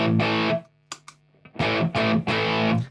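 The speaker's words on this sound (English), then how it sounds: "here's the pedal when it's on in its bass mode" Distorted electric guitar chords from a Telecaster-style thinline guitar through an EQ pedal in bass mode, strummed in bursts, with a brief pause and a few muted scratches between, thick and full in the low end.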